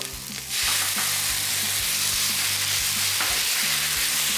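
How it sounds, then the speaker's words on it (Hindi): Fish and vegetables stir-fried with mixed sauces over high heat, a sudden burst into loud, continuous sizzling after half a second, with rhythmic utensil scrapes in the pan and no voices. "इसको मैं 1 से 2 मिनट तेज़ आंच पे फ्राई करूँगी।"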